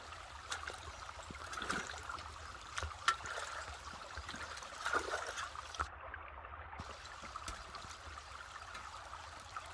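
Creek water runs softly and continuously outdoors, a faint low trickle with occasional small splashes and knocks, calm and without voices.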